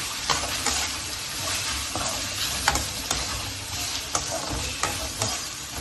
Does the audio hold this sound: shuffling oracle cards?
no